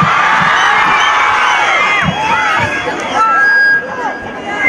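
A school audience at a high school function cheers and whoops in a loud, excited crowd burst that stays high for several seconds, with shouts and babble and some speech mixed in.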